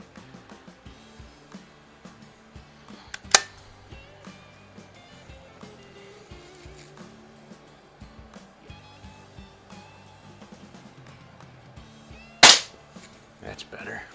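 Daisy 717 and Diana (Geco) model 6 air pistols firing QYS pellets: two sharp, isolated shot cracks several seconds apart, close and fairly loud over a quiet background.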